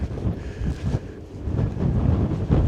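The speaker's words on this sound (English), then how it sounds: "A little breezy up here." Wind blowing outdoors on a breezy hillside near a cave, heard as gusty, uneven buffeting against the microphone that rises and falls throughout, loud and close, with no talking.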